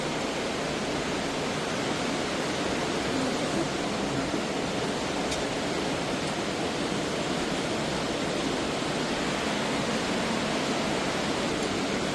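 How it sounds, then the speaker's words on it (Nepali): The Kali Gandaki river flows near Muktinath as a constant, even rush of water, a loud broadband roar with no breaks and no voices. "ल यो गण्डक नदी अहिले हाम्रो बगिरहेको छ।"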